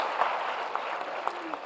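An audience at a government de-addiction day event in Patna applauds to welcome guests, a steady wash of clapping that sounds somewhat distant and fills the hall. Voices talk faintly under it.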